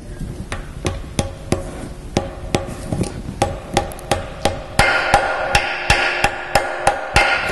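A new gearbox seal on a Land Rover Discovery 2 TD5 is tapped into place with a hammer: a steady series of about twenty sharp, evenly spaced metallic knocks, close and clear, with no talk.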